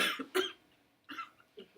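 Three separate coughs, close and fairly loud, with short quiet pauses between them.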